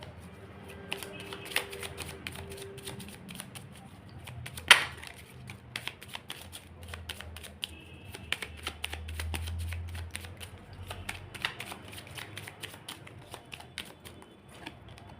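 Tarot cards are shuffled by hand at close range, soft rapid riffling and flicking clicks repeating through the clip with one sharper slap partway in and no voice.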